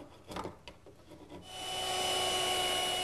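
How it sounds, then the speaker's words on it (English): Corners being knocked off redwood tenons on a table leg, a few brief scraping rasps of wood worked by hand, then a loud steady whine of a power tool taking over and running to the end. "Here I'm knocking the corners off of the tenons on the leg"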